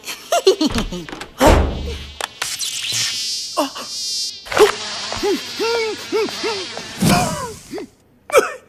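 A cartoon robotic spy fly buzzes loudly and close by, whining and swooping in repeated pitch-bending arcs, with short sound effects and bursts of voice mixed in among the buzzing.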